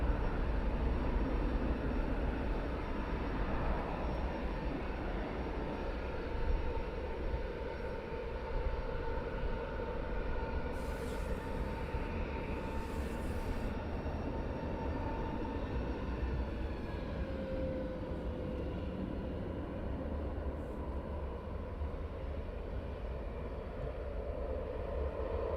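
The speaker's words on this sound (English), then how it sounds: "Test bed now is taxiing out" A test-bed aircraft taxis at Luton Airport, a steady broad engine roar holding evenly throughout with a faint whine, distant and constant without breaks.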